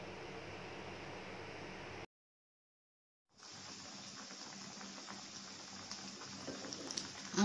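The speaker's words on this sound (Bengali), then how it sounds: "চুলার আঁচটাকে হাই রেখে এই আমগুলোকে সিদ্ধ করে নিতে হবে।" Raw mango pieces boil in vinegar over high heat for a Kashmiri mango pickle, giving a steady, dense bubbling hiss. It cuts out for about a second and then resumes, with a few louder pops near the end.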